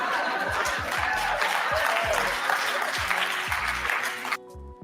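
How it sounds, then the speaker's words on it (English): An audience bursts into hand clapping at a comedy stand-up show, a dense sustained wave of applause with some laughter mixed in and music underneath, ending abruptly near the close. "Pause right there for a second while they give him the hand clap"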